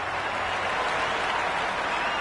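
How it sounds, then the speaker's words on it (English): Cricket crowd in the stands cheering and applauding after a well-timed boundary shot, a dense, steady roar of clapping and voices filling the whole stretch at close, even loudness. "There's a buzz, a real buzz coming from the stands"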